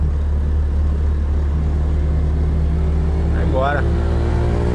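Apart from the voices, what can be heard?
1970 Chevrolet Opala car accelerating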